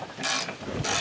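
Ratchet wrench clicking quickly while loosening a bolt on a SuperATV windshield fitted to a Polaris RZR KRX, in two bursts of rapid pawl ratcheting, close and fairly loud.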